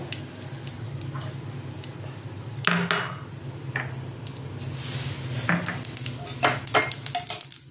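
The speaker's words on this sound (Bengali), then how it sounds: "এবার তেলের মধ্যে এবার আমি ফোড়নটা দেবো। একটা দেবো শুকনো লঙ্কাটা, দেবো গোটা জিরেটা" Dried red chilli and whole cumin temper in hot oil with a steady sizzle, broken by a few brighter spatters and scraping stirs in the pan.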